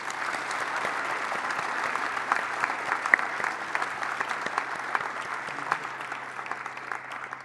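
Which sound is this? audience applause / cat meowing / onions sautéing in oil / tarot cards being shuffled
audience applause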